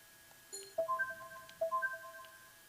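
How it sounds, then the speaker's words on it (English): A phone in the World End Syndrome video game on Switch rings with a short electronic tone followed by two repeated ringtone phrases, faint and clean with no talk over it. "The phone rings."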